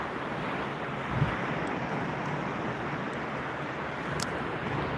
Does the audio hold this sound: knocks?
no